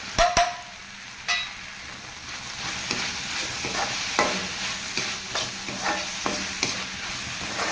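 A spoon stirs cabbage poriyal in a sizzling pan, with soft frying crackle underneath and a series of scraping, clattering stirs repeating at close range, quiet and without talk.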